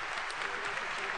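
Steady, dense applause from a large audience at a university engineering senior recognition ceremony, filling the short moment evenly without pause.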